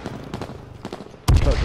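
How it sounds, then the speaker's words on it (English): Gunfire in the PS4 battle royale game H1Z1: a few faint, distant shots, then a sudden loud close blast with a rumbling tail. "Yep, that's us shooting."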